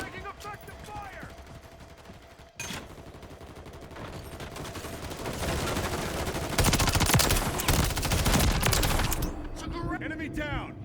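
Rapid gunfire fills an online match of Call of Duty MW3 during the open beta, with dense bursts and overlapping shots that swell louder midway under a player's voice.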